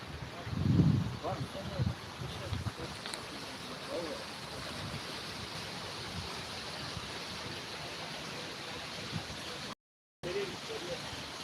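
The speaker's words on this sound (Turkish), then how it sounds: "Bugün Ulubey Ottobos Şelalesi'ndeyiz." Steady broadband rush of the Ulubey Ottobos waterfall and its stream, constant and fairly close, with faint talk and a brief gap near the end.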